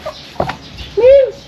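A short rising-and-falling cluck from a chicken, close and clear, following a couple of brief softer sounds.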